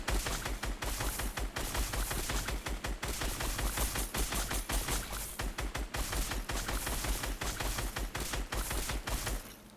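Continuous rapid gunshots in a keyboard-and-mouse aim-training game where zombies pop up and get shot, a steady loud rattle of closely spaced shots filling the whole stretch with no talk.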